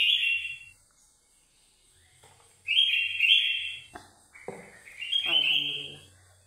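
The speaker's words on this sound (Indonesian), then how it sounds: "berisik, ada burung" Birds chirp noisily nearby in loud bursts of bright, high whistling calls separated by short quiet gaps, with a brief voice-like sound near the end.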